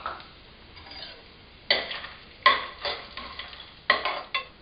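Cashews, red chili, cinnamon, fennel and nigella seeds roasting in a pan, heard as soft rustling and scraping with a few sharper stirring clatters, close and moderately quiet, no talk.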